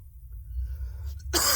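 A person who is a little sick coughs once near the end, a sharp close burst after quiet low background hum.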